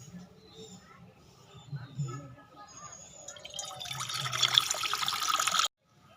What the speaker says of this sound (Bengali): প্রথমে আমি মুসুরির ডালটা সিদ্ধ করে নেবো, আর তার জন্য দিয়ে দেবো কড়াইতে পানি